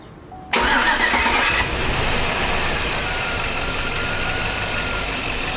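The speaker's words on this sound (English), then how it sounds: "This time much easier to start because I didn't flood out every cylinder there is." A 2005 Chevrolet Avalanche engine cranks briefly and catches after fuel injector balance testing, then settles into a steady, loud idle close by with no talking.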